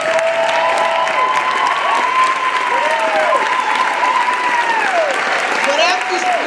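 Steady sustained applause from an audience standing at an entrepreneur awards ceremony, dense and even clapping throughout with a faint sustained tone over the top.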